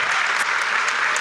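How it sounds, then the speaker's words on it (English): Audience applauding at a chamber of commerce morning coffee gathering, a steady, dense wash of clapping from a crowd that continues evenly throughout without pause. "Clapping, applauding."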